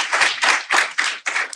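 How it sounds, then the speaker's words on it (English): An audience claps five times in quick, even bursts at a stand-up comedy show, each clap loud and close. "clap if you still work a 9 to 5"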